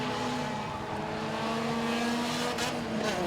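Race cars in an enduro at Langley Speedway, a loud continuous roar of several engines droning past on the oval with steady pitch and a faint passing whoosh near the end.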